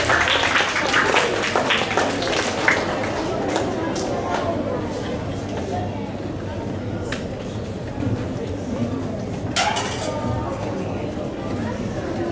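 A school audience at an inter-house Hindi recitation competition breaks into steady, dense applause, filling the hall with continuous clapping and murmured chatter as the next student participant is welcomed.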